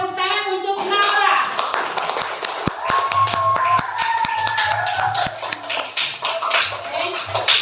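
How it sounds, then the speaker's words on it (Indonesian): Students in a classroom give a brief round of scattered claps and taps for a classmate, with children's voices chattering around it. "Kita beri tepuk tangan untuk Laura"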